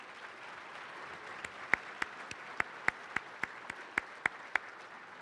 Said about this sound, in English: join me with your applause as we welcome our head table dignitaries and distinguished guests collectively